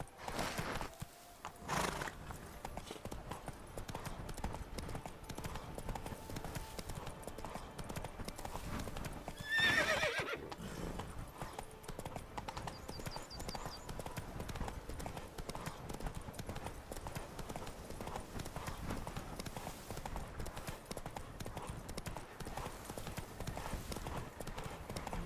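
A horse's hooves clip-clop in a steady rhythm as it gallops in The Witcher 3: Wild Hunt, Blood and Wine, with a whinny partway through, a quiet voice at times, and game ambience underneath.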